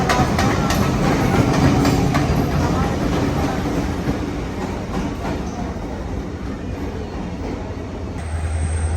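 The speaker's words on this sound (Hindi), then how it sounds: "ये एक ट्रेन इधर से गुजर रही है" A small passenger train passes through a station with a loud, continuous rumble and rattle of wheels that fades slightly toward the end, alone without talk.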